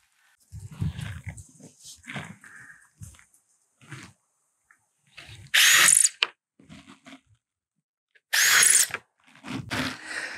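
Power drill driving screws through a board into the underside of a DIY garage workbench, with several short bursts of drilling separated by quieter handling noises and knocks, fairly close.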